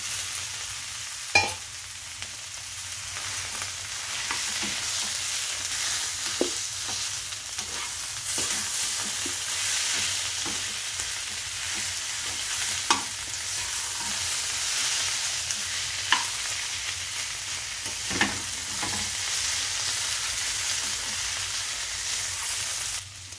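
A fried fish head cooks in spice paste for a radish ghonto, giving a steady, close sizzle and hiss with occasional soft clicks of a spatula stirring, no talking.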